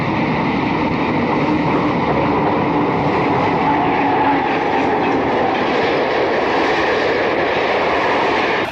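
An Erie Lackawanna train roars through a grade crossing during a snowstorm east of Mount Tabor, a loud continuous rumble and rush of wheels and engine that stays close and steady throughout, with no voices.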